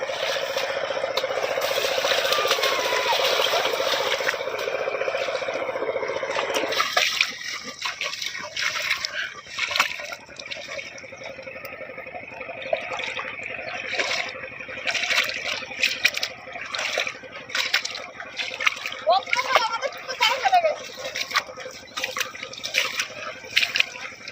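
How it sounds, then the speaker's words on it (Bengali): Draining a village fish pond, with loud continuous rushing and splashing water at first, then lighter sloshing, dripping and intermittent splashes close by, and faint talk here and there. "প্রচুর জল, যেদিকেই দেখাচ্ছে সেই দিকেই দেখছি পুরো সাদা জলে পড়ছে।"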